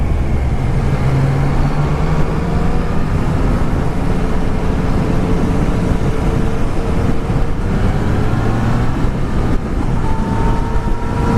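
A Yamaha XSR900 with its 900 cc three-cylinder engine running while the bike is ridden, a steady loud engine drone with shifting pitch under heavy wind rush, with no talk.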